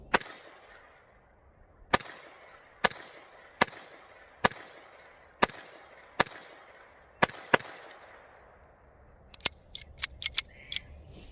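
A Phoenix Arms .22LR pistol fires a series of sharp, evenly spaced shots, about eight single cracks each with a short echo, followed by a faster cluster of quick shots near the end.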